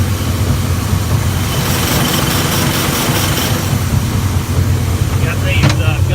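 An oil lube pump system runs on a 2012 Ford F-550 4x4 mechanics service truck, a steady low mechanical hum and rattle with a brief hiss near the end.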